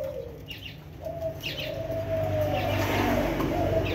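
A black-patterned Thai dove coos in long drawn-out calls, moderately close, repeating over steady background noise that sounds like distant traffic.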